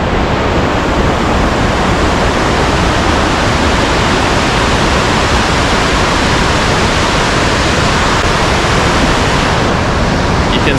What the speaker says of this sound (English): we're at the top of Taringa Falls now